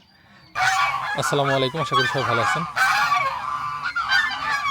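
Geese out grazing by a village pond in the afternoon give loud, repeated nasal honks close by, overlapping in bursts while a person speaks over them.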